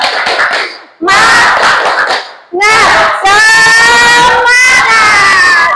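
A classroom of students performs a 'tepuk semangat' clapping chant, loud rhythmic group claps in bursts followed by voices shouting together in unison.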